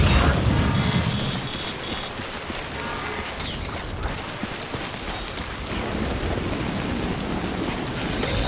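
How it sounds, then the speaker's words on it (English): Steady timefall rain pours continuously in the Death Stranding video game, a dense, loud hiss of rainfall that fills the whole stretch without pause. "Getting near constant timefall in this region for a while now."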